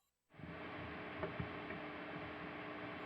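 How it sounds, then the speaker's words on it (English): With no noise gate, a cranked Soldano SLO 100 amp simulation gives off a steady, faint hiss and low hum that start abruptly after a moment of silence and hold evenly, with a couple of small ticks. "You can hear that little bit of hiss coming."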